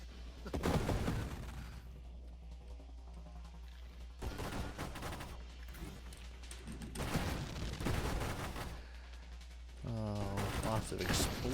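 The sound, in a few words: exploding gems in a video game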